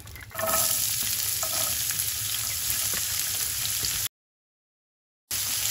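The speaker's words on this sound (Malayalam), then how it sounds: "ഈ എണ്ണയിൽ തന്നെ നമുക്ക് ഒരു മീഡിയം സൈസ് സവാള ചെറുതായിട്ട് അരിഞ്ഞതാണ് നമുക്ക് ഇട്ട് കൊടുക്കാം" Finely chopped medium onion sizzles steadily in hot oil for a Kerala fish curry, a loud continuous frying hiss with a few stirring scrapes, cutting out briefly to silence near the end before the sizzle resumes.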